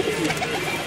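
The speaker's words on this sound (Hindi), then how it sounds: "ये जर्चा कबूतर है।" Jarcha pigeon cooing close by, a brief, soft, throaty coo that lasts about a second, with no voices over it.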